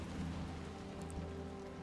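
Steady rain falls in the WW1 strategy game War Hospital, a dense, even hiss of drops with low rumbling underneath, constant and fairly faint throughout.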